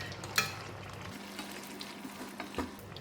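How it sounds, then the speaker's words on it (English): Evaporated milk goes into a sizzling bitter gourd masala curry cooked without coconut: a brief splash and clink, then a steady, soft frying sizzle with scattered stirring taps. "Now we're going to add in about 3 tablespoons of evaporated milk."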